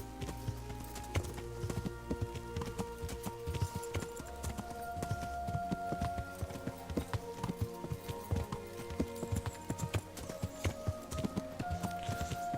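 Horse hooves clip-clop steadily as a rider travels on horseback in Kingdom Come: Deliverance, a continuous rhythmic trot with occasional snorts over a light ambient game soundscape.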